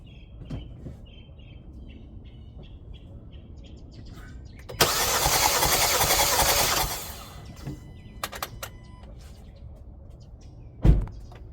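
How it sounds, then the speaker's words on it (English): The engine of a 2018 Hyundai Santa Fe Sport cranks over during a compression test, a harsh, loud burst of roughly two seconds. Birds chirp faintly in the background before and after, and a sharp knock follows later. "we're going to spin the motor over"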